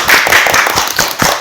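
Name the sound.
audience clapping to close the interview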